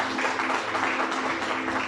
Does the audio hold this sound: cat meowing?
no